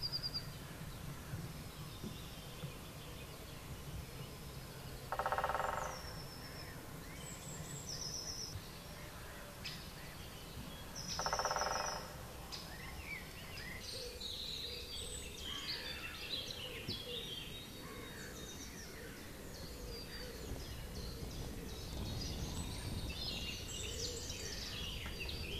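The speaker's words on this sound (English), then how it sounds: "the sounds of the woodland birds start to take over" Woodland birds call and sing in the English countryside near Southwold and the River Blyth, a mix of faint, scattered chirps and short phrases over a soft outdoor hiss, with a couple of brief louder bursts.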